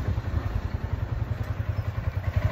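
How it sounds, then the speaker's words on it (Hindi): A motorcycle carrying two riders on the road, its engine giving a close, steady low thrum with a quick pulsing beat that runs throughout, with no talking. "हम दोनों चल लिए बाइक में हम कर रहे हैं राइडिंग"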